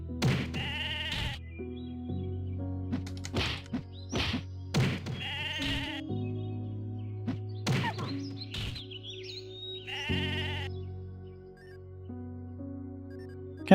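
Sheep in the Mabinogi game bleat repeatedly, several loud close calls at irregular intervals over a steady low background hum, with faint bird-like chirps.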